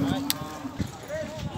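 Holstein dairy cows at a cattle fair in Capoeiras, Pernambuco, low mooing in a few drawn-out calls, close and fairly loud over a busy outdoor background.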